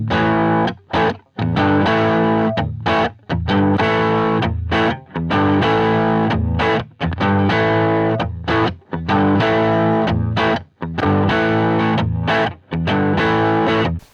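An electric guitar played through a Zen Drive overdrive pedal into a Fender Deluxe Reverb amp, thick distorted chords and riffs strummed in short phrases with brief pauses between them.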